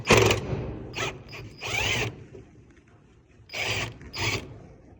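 A gear wrench ratchets in several short, quick clicking bursts while working on bolts of a combine rotor, with pauses between strokes, close and fairly quiet.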